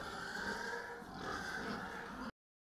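Sows on a Vietnamese pig farm grunting and oinking continuously at close range, a dense overlapping chorus of snorts that cuts off abruptly.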